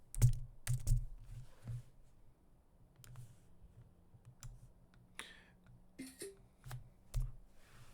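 Computer mouse and keyboard clicks come in scattered sharp taps, a few quick bursts and single clicks at a quiet, close level in an otherwise still room.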